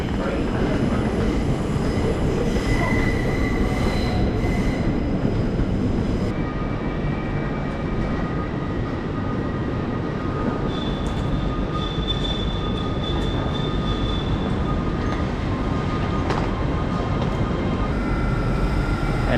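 A London Underground train at King's Cross runs with a loud, constant roar and rumble, with faint wheel squeals and tonal whines rising and fading over the noise.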